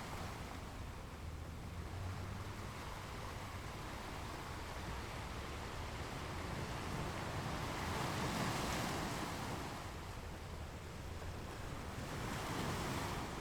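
Ocean waves wash onto the shore in a steady, soft, continuous surf, with gentle swells rising and falling in slow surges and no voices.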